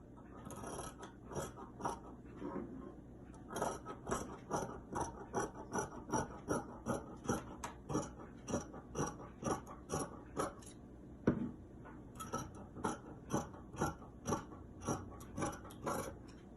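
Scissors cut through the fabric front neckline of a gathered-neckline gown, making a long series of crisp, close snips in a fairly regular rhythm, with a brief pause partway through and no talking.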